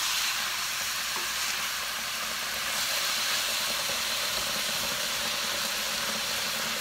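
Saltfish cooking in a pan for a Caribbean dish gives off a steady, broad sizzle and hiss that runs close and unbroken throughout, with no talking.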